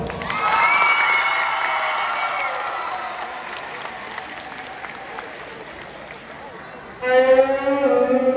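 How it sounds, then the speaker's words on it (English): Audience at a high school international show applauds and cheers for a young performer, loud steady clapping that slowly fades, then a burst of shouting and cheering near the end. "So give him a big round of applause."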